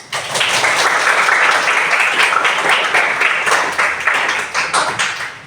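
A group claps in loud, steady applause for everyone at a morning session, dense and sustained for several seconds before it breaks into looser claps at the end.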